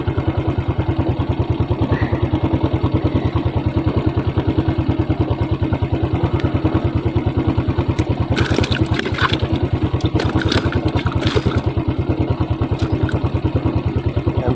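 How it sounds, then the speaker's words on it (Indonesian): A motorcycle engine idles steadily nearby beside a palm-oil plantation canal, with a continuous rhythmic putter and some brief clattering bursts midway, no talking. "Motor aja belum mati nih."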